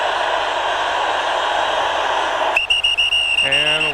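Referee's whistle at the 2001 AFC Championship football game between the Patriots and Steelers, a sharp sustained tone cutting in over steady crowd noise near the end, followed by a second shorter whistle.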